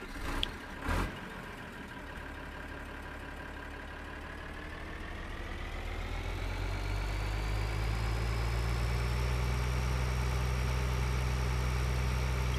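A tractor engine in Farming Simulator 2013 starts up and settles into a steady idle, then its drone slowly builds and holds loud, with no one speaking.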